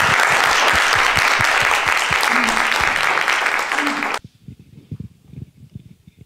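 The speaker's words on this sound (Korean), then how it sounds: "그러면 다 같이 박수로 김혁수 제독님 모시도록 하겠습니다." Audience applause welcoming a retired navy admiral to the stage at a Seoul National University forum, loud and dense clapping that cuts off abruptly midway, followed by scattered footsteps and faint room noise.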